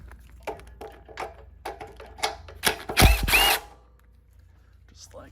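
A bolt being removed from a Honda GX340 small engine carburetor: a burst of ratcheting clicks from a hand tool, then a short loud whir like a power driver, close up and without speech.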